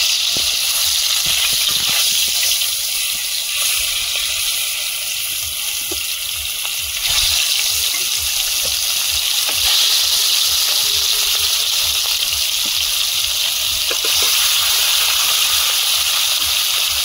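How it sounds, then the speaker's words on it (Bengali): Rohu fish frying in oil in an iron wok, giving a steady, loud hiss and sizzle that runs throughout with no talking. "কড়াইতে তেল দিয়ে দিচ্ছি, মাছ ভাজতে শুরু করে দেব"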